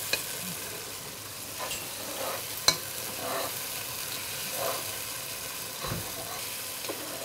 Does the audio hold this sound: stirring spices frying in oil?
yes